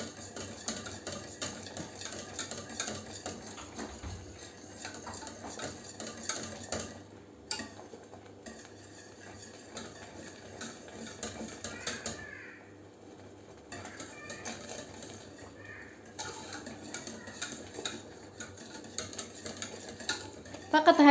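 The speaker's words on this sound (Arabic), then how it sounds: "التحريك المستمر باش ما تتكونش عندنا الحبيبات." Hot cream stirred continuously in a pot, a spoon tapping and scraping in a quiet, repetitive rhythm with faint clinks, close and soft.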